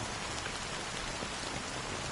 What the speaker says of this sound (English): How long has this rain been ongoing?